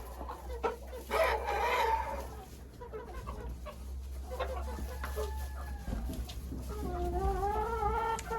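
Hens in a henhouse cluck and squawk repeatedly, with a rooster's drawn-out crow rising near the end; close, lively farmyard calls with no talking.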